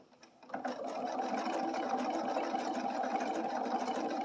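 A sewing machine stitches appliqué on a Halloween bats-and-boos table runner, a steady close mechanical whir that starts after a brief quiet moment and runs evenly without pause, with no talking.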